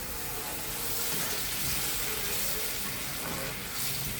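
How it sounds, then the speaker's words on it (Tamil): Tamarind water poured into a hot cooking pan with onions, a steady broadband rush and sizzle filling the whole stretch at even loudness, with no talking. "நம்ம கரைச்சி வச்சுருந்த புளி தண்ணியை எடுத்து இதில் ஊற்றி வேக வைக்கணும்"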